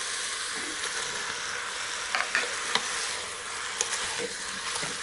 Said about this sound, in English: just give it a quick stir to let it let the veggie cover in the fat and the oil that we added in before